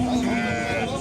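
A single sheep gives a drawn-out bleat close by at a livestock market, with a low crowd murmur and background noise underneath.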